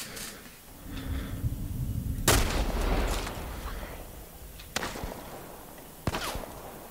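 Gunfire in The Last of Us Part 1: a low rumble builds before one sharp, loud shot, followed by two more separate sharp gunshots spaced a couple of seconds apart, with lingering echo between them.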